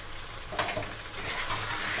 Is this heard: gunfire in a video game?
no